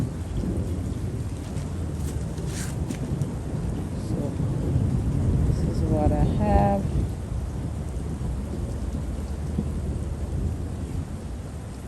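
Steady rain pours down with a low rumble of thunder underneath, and a voice briefly speaks over the downpour.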